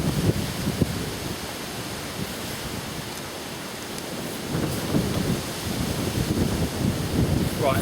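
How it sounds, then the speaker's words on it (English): Strong wind buffets outdoors, a loud continuous roar of broadband rushing noise with gusts that swell and ease over several seconds, heard alone without talk. "We'll go quiet for a minute because of the wind."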